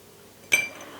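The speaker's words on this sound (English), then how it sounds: "First, we're going to start by putting in some ice cubes." Ice cubes drop into a glass while a drink with grenadine, maraschino cherries and lemon-lime soda is being made, giving one bright clink with a short ringing tail, close up and otherwise quiet.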